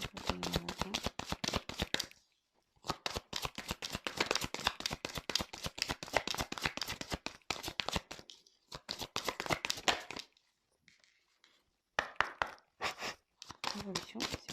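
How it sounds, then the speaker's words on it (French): Oracle or tarot cards are shuffled by hand in repeated crisp riffling bursts with short pauses between them, close and clear, with no talk over them. "Si j'ai besoin, je retirerai des cartes complémentaires."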